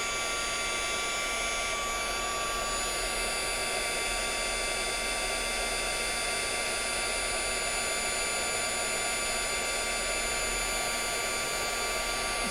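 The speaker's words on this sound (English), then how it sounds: "we're going to heat this clear embossing powder, and it's going to melt" A heat tool blows a loud, constant whir of hot air without pause as it melts clear embossing powder on a stamped card.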